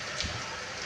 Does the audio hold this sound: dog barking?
no